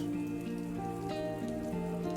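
Steady rain falls throughout a scene in a furry superhero visual novel game, a constant soft patter that stays even and close, layered under sustained musical tones with no voices.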